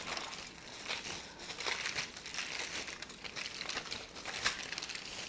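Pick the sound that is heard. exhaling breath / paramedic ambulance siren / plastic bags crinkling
plastic bags crinkling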